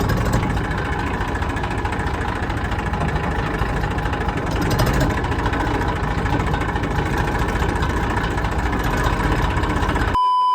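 An Eicher tractor engine runs steadily at close range, a continuous loud idling drone with constant vibration and no pauses, and no voices over it.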